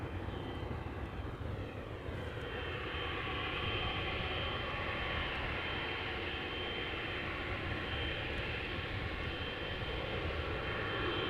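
Heavy jet airliner on approach to Amsterdam Schiphol Airport, a steady, loud, broad engine roar with faint high whine that holds constant throughout, no voices.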